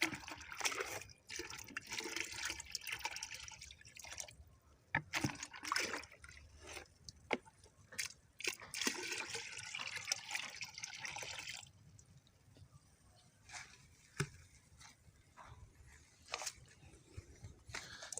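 Stirred fertilizer mix poured into about 16 liters of water for chili plants in polybags, a soft splashing trickle with scattered drips and knocks, fairly quiet and close.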